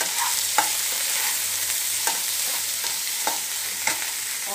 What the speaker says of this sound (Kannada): ಒಂಥರ ಶುಂಠಿ ಬೆಳ್ಳುಳ್ಳಿ ಹಾಕಿ ಮೆಣಸಿನ್ಕಾಯಿ ಹಾಕ್ತಾ ಇದ್ದೀನಿ, ಹಾಗೆ ಸ್ವಲ್ಪ ಈರುಳ್ಳಿ ಹಾಕ್ತಾ ಇದ್ದೀನಿ, ಈಗ ಟೊಮೊಟೊ ಹಾಕ್ತಾ ಇದ್ದೀನಿ